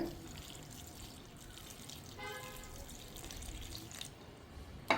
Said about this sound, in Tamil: இப்போ நம்ம தேங்காய் பால் ஊற்றணும்